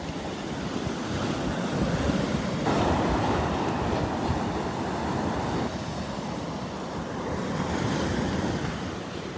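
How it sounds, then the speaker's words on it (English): Surf rolls onto Vanderbilt Beach on Florida's Gulf Coast, a continuous loud wash of breaking waves with swelling surges and wind, heard close with no voices. "enjoying the sights and sounds of the waves."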